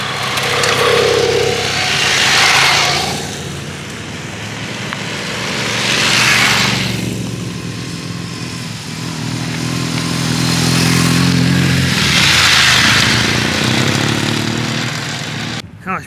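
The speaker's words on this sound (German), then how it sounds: "es gibt doch noch wen, der fährt, und zwar ein paar Motorräder" Motorcycles on an offroad course at a syncro meet in a park, engines swelling in and out as they pass at moderate distance, with revving surges separated by quieter idling stretches.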